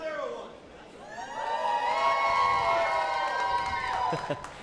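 A crowd at a robot fighting championship cheers and whoops loudly, the mass of voices building and holding in a sustained roar.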